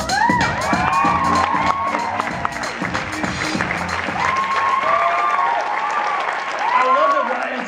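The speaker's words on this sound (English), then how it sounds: "I love that Ryan Johnson gets applause" A live audience breaks into sustained applause, mixed with cheering, whoops and high shouts throughout.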